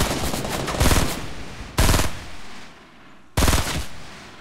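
Gunfire in the Fortnite video game: a loud close burst of rapid shots, then two single heavy shots with long decaying tails spaced well apart.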